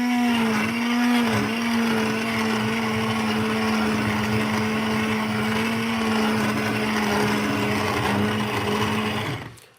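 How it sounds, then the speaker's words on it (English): A big blender whirs at full speed through kiwi and cucumber for juice, a loud, steady motor drone held for nearly ten seconds before it abruptly cuts off, with no talking. "Sometimes I use my big blender."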